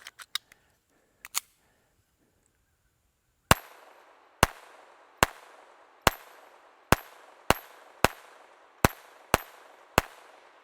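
A Walther P22 pistol firing CCI standard velocity .22 rounds at a steel dueling tree: a few quick sharp shots, a pause, then a steady string of about nine loud cracks, each trailed by brief ringing, with no talk.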